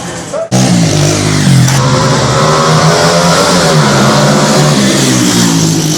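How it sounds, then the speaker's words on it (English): Fast motorbikes roar past on a busy street in a Dominican town. The engine noise is loud and close, revving hard and continuously after an abrupt start, with street clamor and a little voice underneath. "noises of fast motorbikes roaring past you"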